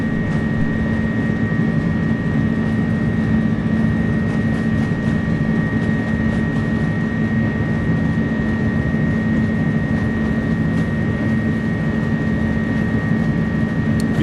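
The Pratt & Whitney engines of an Airbus A300 roar steadily at takeoff power in a flight simulator. The sound is loud and continuous, with a low rumble and a sustained high whine, and no voices are heard.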